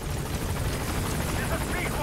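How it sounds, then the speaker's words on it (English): A helicopter arrives for extraction in Metal Gear Solid 5: The Phantom Pain, a steady, dense rotor roar throughout, with voices talking over it. "Yes, I'm going back because my helicopter's going to come here."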